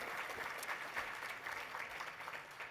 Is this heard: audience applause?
yes